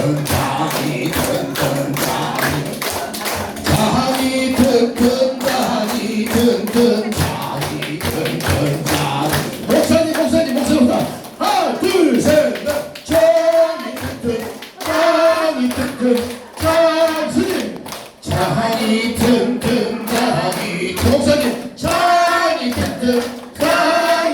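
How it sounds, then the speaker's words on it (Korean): Rhythmic hand clapping, sharp and repeated in a steady pattern, with voices chanting or singing along throughout. "먼저 박수 준비 시작!"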